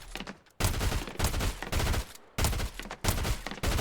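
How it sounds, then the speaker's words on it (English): A Hollow Rush SMG fired in Fortnite Battle Royale, loud rapid-fire bursts in several sustained strings separated by short pauses, close and dominant. "we have the Yole Troopers Hollow Rush SMG"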